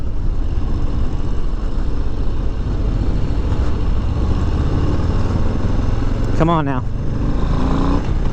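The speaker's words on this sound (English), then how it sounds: "Oh, you gotta love that Low Rider S sound." A 2022 Harley-Davidson Low Rider S 117 motorcycle rumbles loudly and steadily on the road under wind noise, with a brief rising engine rev near the end; a rider speaks briefly.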